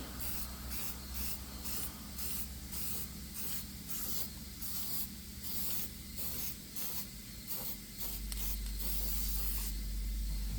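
Repeated bursts of cleaner sprayed onto a stainless steel toolbox top in a garage during a transmission filter job, a steady rhythm of close, loud hissing pumps with no talking.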